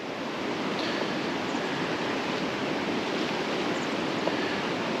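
A river near West Linn, Oregon, flowing toward the Willamette gives off a steady, dense broadband rush of moving water, constant and unbroken throughout.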